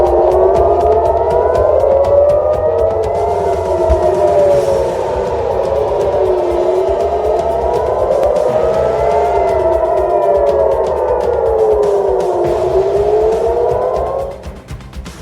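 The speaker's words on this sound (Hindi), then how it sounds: "तेल अवीव रात भर सायरन की आवाज से गूंजता रहा" Air raid sirens wail over Tel Aviv at night, loud rising and falling tones sweeping slowly up and down for about fourteen seconds, overlapping one another over a low rumble before cutting off abruptly at the end.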